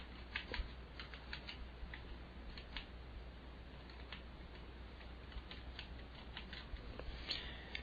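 Soft, scattered keyboard taps click irregularly at low volume against a faint background hum.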